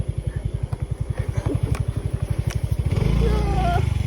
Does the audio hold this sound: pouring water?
no